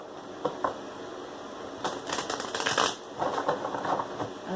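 Tarot cards are shuffled by hand in quick riffling bursts, a few crisp flicks followed by a longer run of papery fluttering, close and clear with no talking.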